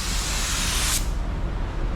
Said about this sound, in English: We're gonna spray some clear